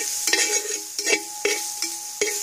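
Masala being stirred into a Kuttanadan duck roast in a pan, with a steady sizzle under repeated scraping strokes of a spoon, about five distinct strokes at a loose, even rhythm.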